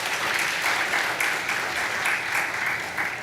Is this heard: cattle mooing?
no